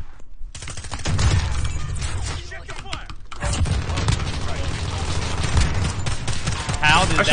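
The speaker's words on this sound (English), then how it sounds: "Gonna give the shotgun a shot." Shotgun blasts in Call of Duty ring out loud and dense, with repeated heavy shots and the clatter of a busy firefight carrying through the whole stretch.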